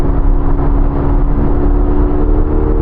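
Engine of a turbocharged Ferrari 488 Spider roars loud and close in a steady, dense drone during a downshift, with no pause or talk over it.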